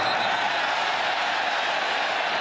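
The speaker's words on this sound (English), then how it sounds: "And the crowd wanting a late hit there" A football stadium crowd at Kansas State reacting after a fair catch, a loud, steady roar of many voices holding constant from start to finish.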